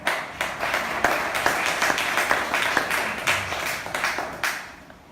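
A church congregation applauding and cheering in praise, a dense, steady burst of clapping from many hands that fades out at the end.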